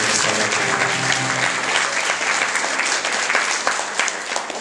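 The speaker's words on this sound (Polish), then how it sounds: "Bardzo proszę gorące brawo" Warm, sustained applause from an audience at a rural women's award ceremony in Poland fills the room steadily and loudly from start to finish, with no talk standing out.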